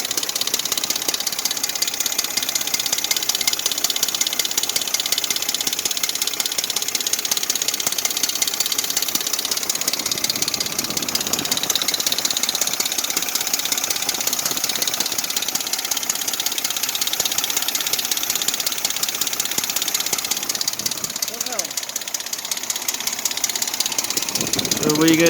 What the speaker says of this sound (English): It's the timing chain that was in it rattling